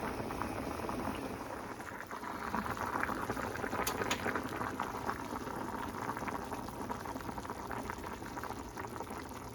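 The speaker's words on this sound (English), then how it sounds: "Bring to a rolling boil for 8 minutes." Ham and potato soup at a rolling boil in a pot, a faint, continuous bubbling and popping with no voices.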